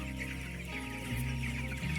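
Chickens cluck at a poultry farm, a steady close-up chorus of overlapping calls from many birds with no pauses.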